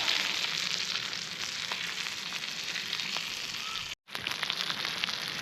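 Rainbow trout sizzles steadily in a frying pan outdoors beside an alpine lake, a continuous loud crackle with a brief dropout near the end.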